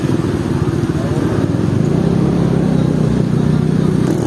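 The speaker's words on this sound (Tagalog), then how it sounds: "Kaya yung mga motor sisisid na sa baha." Motorcycle engines drone and rumble continuously as bikes push through high-tide floodwater, a dense steady roar filling the whole stretch with a faint watery wash.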